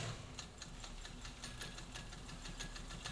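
A Singer 201 sewing machine stitches and back-tacks in reverse, running with a fast, even mechanical rattle and hum, faint and continuous, with no voice over it.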